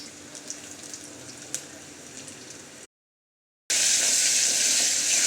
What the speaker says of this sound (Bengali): রসুনটা হালকা ভাজা ভাজা হয়ে গেলে, লাল লাল হয়ে গেলে আমি শাক দিয়ে দিব এখন